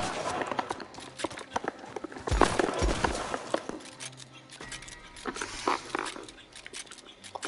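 Horse hooves clip-clop in an irregular series of sharp knocks, some louder and close, others softer, mixed with rustling and scattered background noise.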